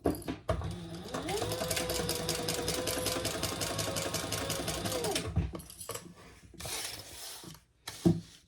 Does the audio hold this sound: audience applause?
no